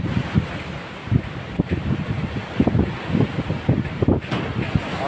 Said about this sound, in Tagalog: pero grabe yung hangin.